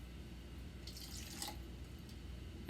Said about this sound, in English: And so I'm just going to pour that into there.